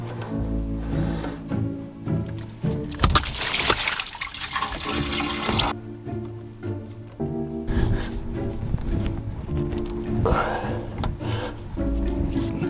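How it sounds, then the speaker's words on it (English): Water drains and gurgles out of disconnected raw water hoses on a sailboat with a Volvo Penta D2 55 engine, a continuous close trickling and splashing with hollow gurgles, uneven in level. "Alright, there goes all the water."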